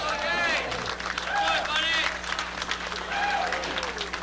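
Crowd applause for a candlepin bowling shot at a televised match, steady clapping and cheering running through the whole stretch while commentators talk over it.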